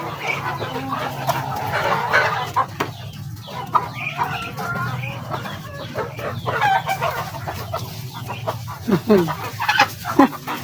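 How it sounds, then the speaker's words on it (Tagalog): Chickens clucking and squawking nearby in a continuous chatter, with a low hum underneath. "Grabe kayong manok."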